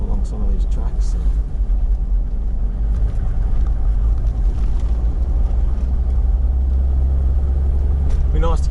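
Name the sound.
Toyota 80 Series 4WD driving on forest track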